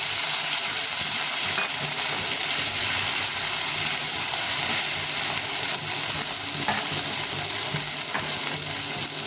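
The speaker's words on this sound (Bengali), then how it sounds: "এখন আমি এখানে টমেটো একটা কুচি করে নিয়েছি ছোট টমেটো ঢেঁড়ের অল্প ওই জন্য টমেটোটা ছোট নিয়েছি এটাকে ভেজে নিচ্ছি" Chopped small tomato fries for an okra curry, a loud continuous sizzle with hissing spatter and occasional stirring scrapes across the whole stretch, no voices over it.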